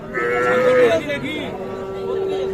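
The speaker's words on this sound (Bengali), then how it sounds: "প্রথমে শাহিওয়াল ক্রস এবং এরপরে দেশাল বাছুর আমি ধারণা দেব" Sahiwal cross and local calves at a cattle market, one drawn-out moo rising and falling close by, then lower lowing continuing over a steady din of market chatter.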